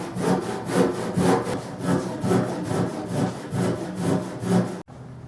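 A hand saw cuts a notch into a wooden post for a simple swing set, its strokes rasping in a steady back-and-forth rhythm, loud and close, before stopping abruptly near the end.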